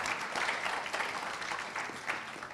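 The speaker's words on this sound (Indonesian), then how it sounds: "Boleh kita berikan aplaus buat para akuntan." Audience applause for accountants at a capital market panel session, a steady wash of many hands clapping from a crowd, sustained and fairly loud throughout.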